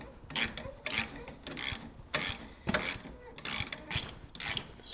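A ratchet wrench with a 17 mm socket works a bolt loose on a car, producing a steady run of rhythmic, close-up ratcheting bursts, about a dozen strokes, each a gritty clicking rasp separated by short pauses.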